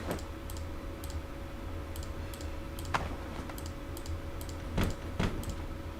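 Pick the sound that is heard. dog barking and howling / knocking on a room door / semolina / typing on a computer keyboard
typing on a computer keyboard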